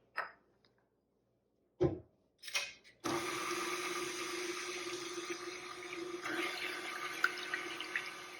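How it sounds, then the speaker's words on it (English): Warm milk, sugar, yeast, melted butter and two eggs whisked together for funnel cake dough, a steady close whirring churn running continuously after a few faint clinks and short scrapes at the start. "Add melted butter and 2 eggs. Whisk to combine."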